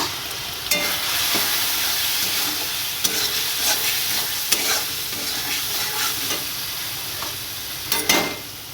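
Soybean chunks with salt, chili powder and turmeric hiss and sizzle steadily in a hot pan, broken by occasional scraping clicks of a spatula stirring them, with no talking.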